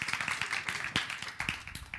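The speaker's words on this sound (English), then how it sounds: "You can give that a big applause." Applause from a small church congregation during a Sunday service after a musical performance, light, scattered clapping with distinct individual claps, fairly quiet and close.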